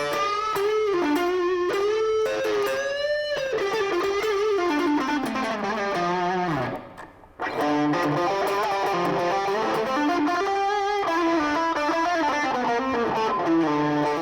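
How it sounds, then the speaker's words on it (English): An electric guitar runs through a boost pedal stacked on top of the amp's own distortion, giving a thick, heavily overdriven tone. It plays sustained, bending notes and chords, with a brief near-silent gap midway before the playing resumes. "I'm essentially stacking this pedal on top of the distortion from the amp, we get this sound."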